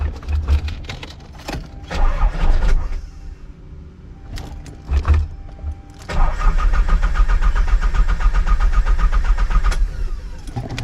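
A KA24DE engine swapped into a Nissan 300ZX cranks in short bursts, with keys jangling between attempts, then catches and settles into a loud, rough, steady run up close.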